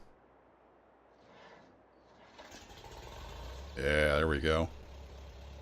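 An old tractor in Farming Simulator 22 cranks over and settles into a steady low idle, with a louder burst of revving near the end, while someone talks over the engine.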